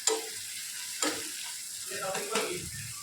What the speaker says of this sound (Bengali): আমি কড়াইতে নারকেলগুলো দিয়ে দিয়েছি